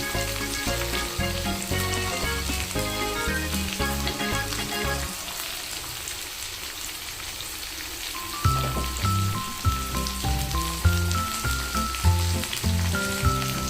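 Chopped onions fry loudly and steadily in oil for bhindi sabzi, a dense crackling sizzle like heavy rain that runs continuously, briefly thinning midway before returning with some clinks of a utensil.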